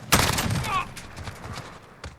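Close-range bursts from a SCAR-H CQC (MK 17) battle rifle in Call of Duty Modern Warfare: a sharp loud report opens, rapid shots follow with a trailing rumble, and another distinct shot lands near the end.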